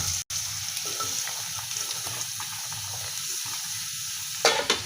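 Onions sizzle in hot oil in a pan, a steady dense crackle and hiss that continues without a break, with a brief stir or scrape near the end.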